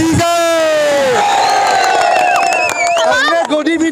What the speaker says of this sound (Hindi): पत्रकार के नाम पे एक जोरदार ताली दीजिए